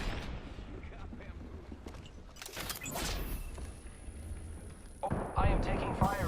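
Gunfire in the video game Apex Legends, a burst of shots and impacts around the middle, then heavier blasts near the end, set among a busy mix of game sound effects and a talking voice.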